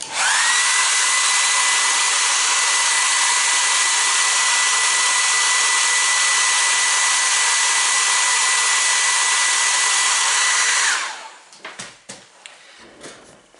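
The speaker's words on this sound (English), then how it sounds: "Hair dryer, here it comes for 10 seconds." A hair dryer roars steadily at close range for about ten seconds, then cuts off, followed by a few faint handling clicks and taps.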